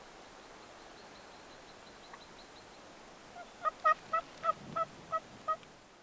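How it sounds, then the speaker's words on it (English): A wild turkey gobbler approaches hunting decoys outdoors. After a quiet stretch of faint ambient hiss, it lets out a close, loud run of about seven sharp, evenly spaced gobbling calls. "another gobbler is cresting the rise"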